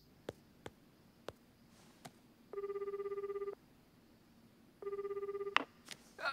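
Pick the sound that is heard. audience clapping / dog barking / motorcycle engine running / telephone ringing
telephone ringing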